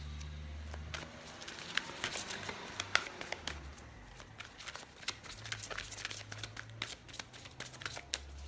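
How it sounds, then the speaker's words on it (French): Tarot-style heart chakra cards are shuffled and drawn by hand, making soft, quiet riffling and flicking sounds in uneven bursts of crisp clicks. "on prend quelques cartes des chakras du cœur pour voir"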